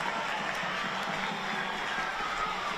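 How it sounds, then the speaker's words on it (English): A packed home crowd at a women's football match in Newcastle cheers after a goal, a dense, steady wash of cheering and applause filling the whole stretch with no clear talk over it. "they give the home crowd something to cheer about"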